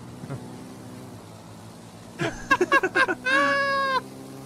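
A voice imitates a cat, giving several short meows in quick succession and then one long, drawn-out meow, clear and close after a faint murmur.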